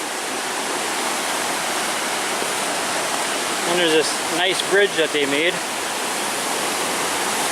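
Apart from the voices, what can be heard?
river rapids rushing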